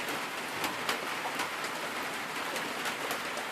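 Steady rain falls outdoors beside a pond, a continuous hiss of drops hitting the surface with scattered louder patters, close and even throughout, with no voices.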